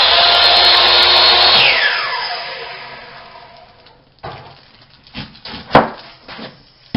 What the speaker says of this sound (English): My husband is cutting up trim for the house.